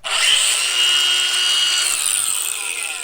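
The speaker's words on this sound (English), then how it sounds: "they're just going to bring a battery powered grinder" Loud, continuous high-pitched grinding whine of a battery-powered grinder cutting through metal chain, steady for the whole stretch with a slight pitch drift near the end.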